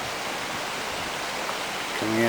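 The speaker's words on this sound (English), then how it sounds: "There's some flowing water there" Water from a stream flowing out of a lake rushes in a steady, broad hiss throughout, with a voice starting up near the end.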